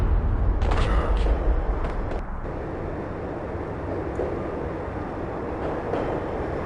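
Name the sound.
train slowing down in video game Max Payne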